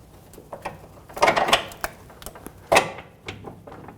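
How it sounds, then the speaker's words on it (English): Metal clanks and creaks come from a large pry bar levering the rear suspension knuckle of a 2003-2008 Honda Pilot into place. Two louder scraping bursts stand out among scattered small clicks and knocks, with no talking. "I'm going to use a large pry bar to help me torque the knuckle over and get this arm in place"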